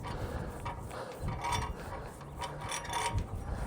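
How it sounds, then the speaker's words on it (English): A rope hauled up through a pulley while lowering a 160-meter half-wave dipole antenna outdoors, producing faint, rhythmic rubbing and creaking pulls that repeat in short bursts. "I'm gonna go ahead and bring up the rope on the pulley. You see it's slowly coming up."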